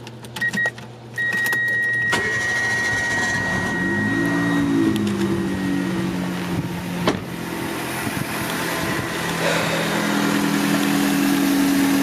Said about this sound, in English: And this engine is a 4-cylinder Clover engine.